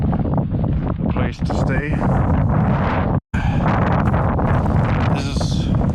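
Strong wind buffets the microphone on an exposed dike, a constant loud roar and rumble with one brief dropout, while a person speaks over it.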